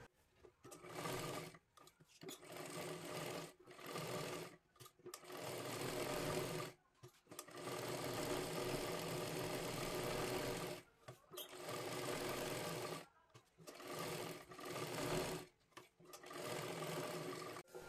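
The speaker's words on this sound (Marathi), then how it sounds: "इथे गळ्याच्या कडेला एक शिलाई मारून घ्यायची आहे।" A sewing machine stitches along the neckline edge of a small girl's lehenga dress, running in close, steady bursts separated by brief pauses, with no talking.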